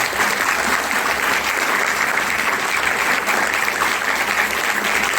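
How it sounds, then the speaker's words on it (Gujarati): School students at a school in Nanpura, Surat clap together, producing loud, dense, continuous applause from a large group close by throughout. "પહેલાં તો તાળીઓ પાડો."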